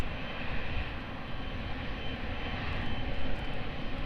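An airliner rolls for takeoff on runway 02 at Lisbon Airport, a broad, steady engine roar heard from a distance with no voices over it.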